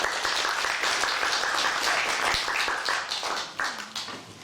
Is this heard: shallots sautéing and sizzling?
no